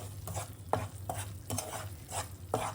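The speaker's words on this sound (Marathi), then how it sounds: "पीठ असं खरपूस भाजून घ्यायचं आपल्याला" Amaranth flour roasting in ghee for a fasting sheera, stirred in a pan with repeated scraping strokes at a steady rhythm over a low background hum, close and moderately quiet.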